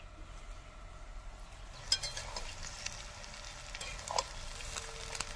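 Cabbage frying with spices and carrots in a pan for egg biryani, a faint steady sizzle with a few soft utensil scrapes and clinks.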